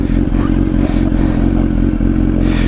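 A sport touring motorcycle engine slow to start then running, a loud, steady close rumble with some clattering and mechanical knocks throughout.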